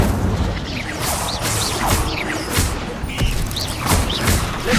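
Repeated spell casts in the wizarding game Hogwarts Legacy, including the Incendio fire spell, land as a string of booming bursts and whooshes, several in under five seconds, loud and busy with no speech.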